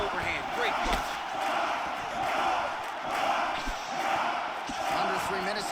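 An arena crowd in a UFC 6 mixed martial arts video game cheers and roars steadily throughout, a constant dense wash of voices with occasional dull thuds from the fight.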